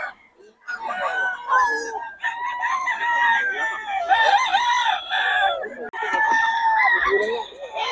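Several roosters crow over one another in a continuous chorus of overlapping harsh calls, loud and close, with barely a pause.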